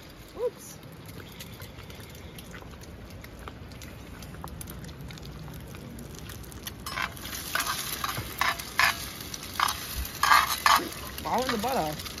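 Mince frying in a pan for breakfast, a soft sizzle under the clatter of stirring and scraping that grows busier and louder in the second half, with brief voices in the background.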